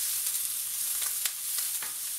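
Meat for a three-meat spaghetti browns in a frying pan, giving a steady, even hiss of sizzling fat with faint scattered crackles throughout.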